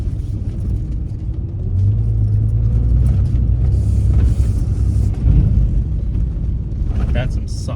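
A vehicle towing a trailer strains through soft sand, its engine a loud, steady low rumble that swells and holds for several seconds, with a person talking over it.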